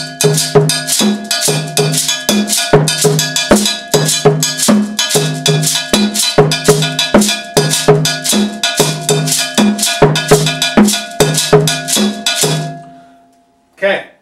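Two bells ring out a repeating pattern in 6/4 over an eight-beat tactus pulse kept with the foot, loud, close and evenly spaced throughout, then stopping near the end with one final stroke.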